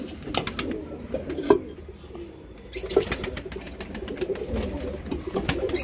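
Pigeons coo nearby in repeated soft, throaty calls, mixed with brief rustling and scattered sharp clicks and taps.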